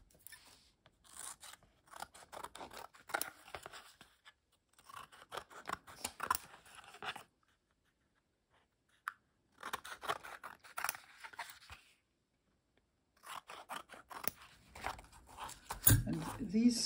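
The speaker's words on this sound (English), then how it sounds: "So I will cut the edges clean on this one." Scissors trim the edges of paper scraps for a collage: close, crisp snipping and rasping cuts in several clusters separated by quiet pauses, with a faint voice now and then.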